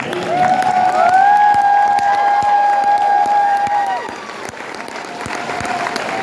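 Convention crowd at a comic con applauding and cheering, loud and sustained, with a high whistle or voice carrying over the clapping before the noise eases slightly.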